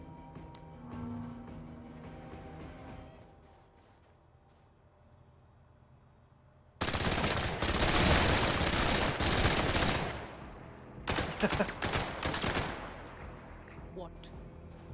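Gunfire aimed at an enemy group in the video game Menace, a dense burst of rapid shots that starts suddenly after a quieter stretch and returns in shorter volleys, loud and close.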